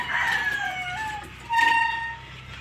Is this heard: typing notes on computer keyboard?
no